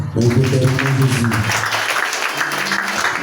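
Church congregation applauding: a burst of clapping that carries on steadily, with voices calling out over it in the first moments.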